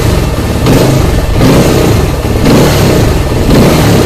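Benelli 150S motorcycle fitted with a 34mm throttle body, revved hard in repeated close, loud surges, the engine note rising and falling in quick pulses with no pause.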